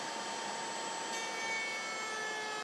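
A router mounted in a table with a straight bit cuts wood, a steady high whining hum with a continuous cutting rasp, close and even, ending abruptly.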